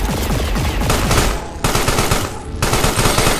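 Rapid, loud automatic gunfire from an enemy in the video game Carrion, dense continuous bursts of shots broken by two short gaps, close and overwhelming.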